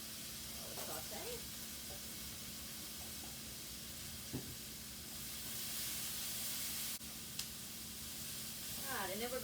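Vegetables sautéing with jarred garlic in a pan for beef fajita soup, a faint steady hiss with a few soft stirring taps and brief moments of nearby voice.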